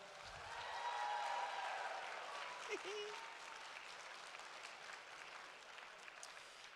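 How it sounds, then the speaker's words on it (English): An audience at a cosplay masquerade applauds in a large hall, the clapping swelling early and then thinning out, while a voice talks over it and feedback-like tones ring faintly. "one more round of applause"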